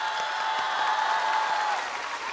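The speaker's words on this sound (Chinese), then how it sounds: "这时候应该掌声鼓励鼓励" Audience applause at a live stand-up comedy taping in Shanghai, a steady wash of clapping that holds at an even level for a couple of seconds with no one speaking over it.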